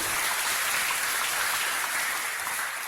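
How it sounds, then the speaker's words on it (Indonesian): A seminar audience applauds a guest taking the stage, producing a dense, even wash of clapping that holds steady throughout without a break. "Tepuk tangan buat Ci Olive yang masuk"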